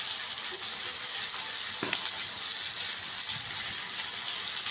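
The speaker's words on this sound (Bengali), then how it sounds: "আমি মশলাটাকে ভালো করে কষিয়ে নিচ্ছি" Ground coriander, chili and Kashmiri chili powders sauté in a pan for Bengali niramish aloo dum, making a constant, even hiss of frying with one faint stir near the middle and no talk.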